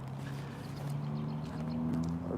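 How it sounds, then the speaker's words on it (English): A car engine hums steadily on a city street with low, drifting tones, close and fairly loud, gradually rising as it continues. "These engine sounds"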